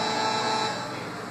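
A short, sustained electronic car horn honk in GTA 5 holds a steady tone, then fades slightly toward the end.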